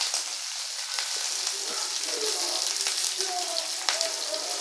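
Chopped onions and green chillies sautéing in a hot pan, a steady close sizzle and crackle with small pops throughout.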